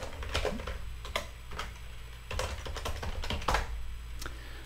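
Fingers type a terminal command on a computer keyboard, producing a run of crisp, close key clicks in an irregular rhythm, with short pauses between clusters of strokes.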